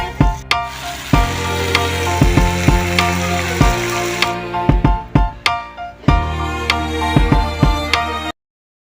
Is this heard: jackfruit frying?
yes